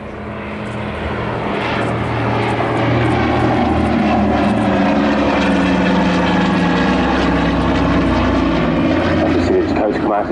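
A C-47 propeller aircraft in D-Day stripes flies past at a seaside air show, its piston engines swelling into a loud, steady drone that holds for several seconds.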